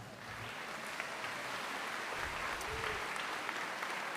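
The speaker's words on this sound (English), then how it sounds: "Let's give them a round of applause." Steady applause from an indoor crowd at a 2019 Saranac Lake high school graduation ceremony in a civic center, sustained clapping with no talk over it.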